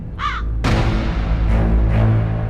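Crows cawing in a field or forest in Korea: a single harsh caw up close at the start, then loud hoarse calls overlapping against steady outdoor noise for the rest of the moment.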